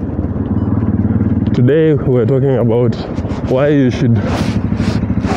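A 200cc Haojin Wari motorcycle engine idles steadily and close, a low continuous rumble under someone speaking.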